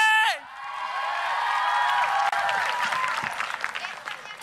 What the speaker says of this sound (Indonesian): Tepuk tangan juga untuk dancer kita malam hari ini